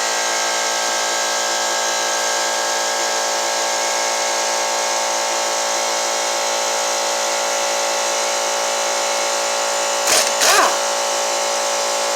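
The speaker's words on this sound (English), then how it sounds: "Sorry for the air compressor noise." An air compressor runs steadily and fairly loudly for the whole stretch in a workshop where a Kawasaki 541v engine is being torn down, with a brief knock or clatter near the end.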